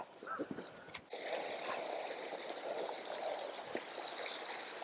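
A clear mountain stream flows steadily on a fell hike in England's Lake District, a continuous near rush of water after a brief quieter opening.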